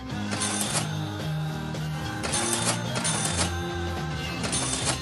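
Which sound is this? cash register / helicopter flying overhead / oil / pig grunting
cash register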